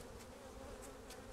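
Honey bees at a hive hum in a dense, steady drone, close and continuous throughout the short moment, with no voices.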